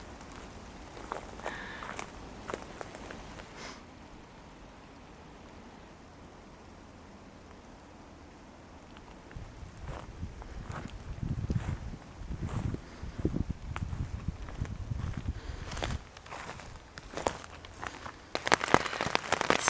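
Heavy rain at a campsite on top of a mountain, a soft steady hiss broken by irregular louder patters and rustles near the tent, with no one speaking.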